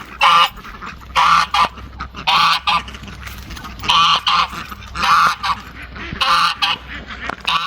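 A big goose honks loudly and close by in repeated bursts, about seven calls spaced roughly a second apart, with farmyard background between calls.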